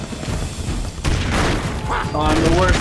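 Grenade blast and rapid gunfire from the side-scrolling game Broforce, a dense run of loud booms and shots that thickens after the first second, with a voice reacting over the noise.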